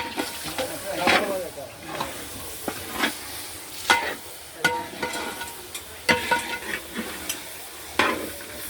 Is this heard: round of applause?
no